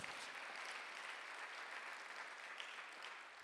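A church congregation applauds at a Thanksgiving Sunday worship service: a steady, dense wash of many hands clapping, sustained and even at a moderate distance, with no voices standing out.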